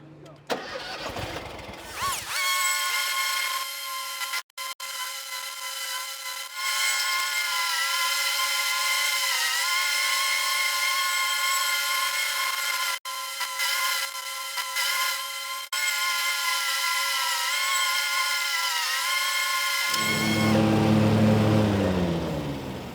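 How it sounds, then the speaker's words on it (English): A Toro 4000 and a John Deere Z960M mower run with mulch kits cutting grass at 3 inches, a loud steady engine drone that holds with slight pitch shifts before cutting off near the end. "We got mulch kits, and we're gonna be mowing it at 3 inches."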